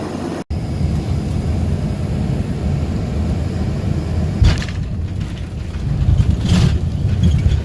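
A passenger airplane touching down and rolling out on landing in Virginia, a steady loud broadband cabin roar with a few rumbling bumps near the middle and toward the end, no talk.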